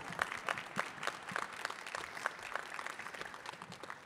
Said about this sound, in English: clapping is allowed